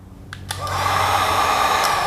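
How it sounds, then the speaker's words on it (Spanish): A small heat gun starts up and blows air in a garage where Suzuki Samurai brake calipers are being worked on, rising from a click into a loud, steady, close whoosh with no talking. "Una pistolita de calor, heat gun."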